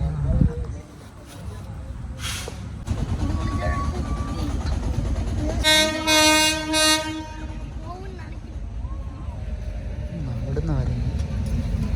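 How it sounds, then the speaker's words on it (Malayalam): A goods train passes close by on a railway track, with a steady loud rumble and a horn blast partway through, while people talk over the noise. "ഇത് ഗുഡ്സ് ട്രെയിനായിരുന്നു"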